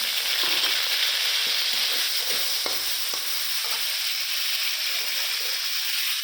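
Tomato frying in plenty of oil with a little ghee and garam masala, a steady loud broadband sizzle with occasional soft stirring scrapes throughout, no voices.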